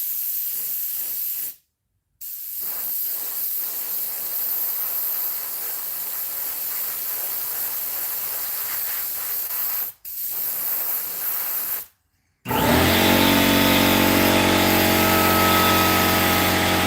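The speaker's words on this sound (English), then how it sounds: "sorry about the air compressor" An air compressor powering an airbrush while a jointed musky crankbait is being painted: a loud, steady hissing spray broken by brief pauses, then a harsher, louder mechanical running sound.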